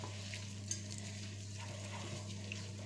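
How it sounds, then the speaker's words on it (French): Onion and garlic frying in oil in a pan while being stirred, a steady soft sizzle over a constant low hum, with faint scraping and one small clink near the start. "on remue pour que l'huile soit bien prise dans l'oignon et dans l'ail"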